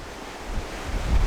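Gusty wind buffets the microphone at a coastal cliff above the sea, a low rumbling roar with surf-like swells, loud and close.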